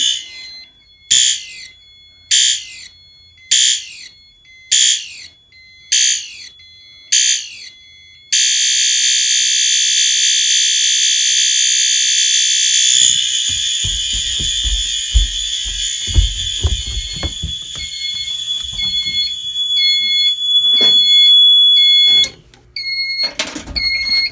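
An agent release system panel sounds its fire alarm in a run of short, evenly spaced beeping pulses. A long continuous tone follows, with handling clatter and a faint intermittent chirp near the end. No one speaks.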